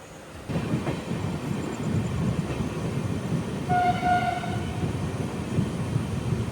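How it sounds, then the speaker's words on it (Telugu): The Vivek Express passenger train rolls slowly with a steady, low rail rumble heard from on board, and a distant horn sounds in a brief blast midway. "స్లో వెళ్తుంది బండి మరి."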